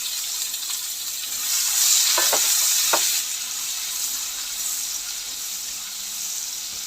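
Onion and curry leaves frying in a pan for a matki rassa, a soft steady sizzle with a few brief scraping stirs near the middle, no talking.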